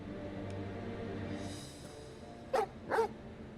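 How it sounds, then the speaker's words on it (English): Two sharp barks from the dog companion in Final Fantasy XVI ring out close together near the end. Before them, a low steady ambient game hum fills the background. "He barks again."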